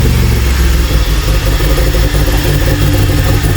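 A DeLorean's swapped-in engine runs steadily at a lumpy idle on its first start with the exhaust fitted, a loud close rumble throughout with slightly uneven timing and no talk over it.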